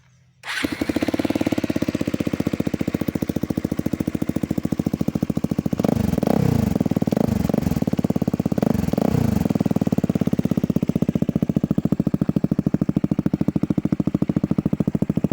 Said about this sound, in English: I'll kick it up for you so you can listen to the exhaust